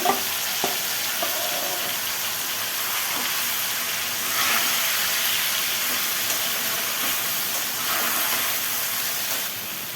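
Marinated chicken pieces tossed into a pan with frying potatoes for chicken kosa raise a loud, steady sizzle and hiss, with a brief clatter as they land, continuing without any voices.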